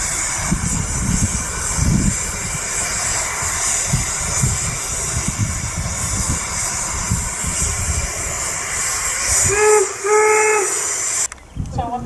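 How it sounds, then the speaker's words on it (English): Steam locomotive No. 119 at Promontory, Utah, with its safety valve popping off to vent steam above 140 psi: a loud, steady roaring hiss throughout, with rumbling low chuffs early and a brief whistle-like tone near the end. "that's when the steam reaches a pressure higher than 140 psi. It pops off the top to reduce the steam back down to 140 psi"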